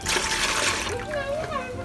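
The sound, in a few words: water splashing while washing greens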